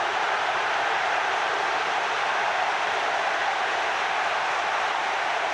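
A huge football crowd at Portman Road during the Ipswich Town v Norwich City derby roars in a steady, unbroken wall of noise, loud and sustained throughout with no pauses.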